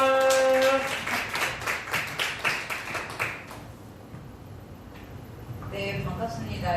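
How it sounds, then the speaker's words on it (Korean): At a church high-school worship service, an audience gives a few seconds of brisk hand clapping to welcome a speaker, then the clapping fades out, with a voice talking before and after. "힘찬 박수로 모셔보겠습니다"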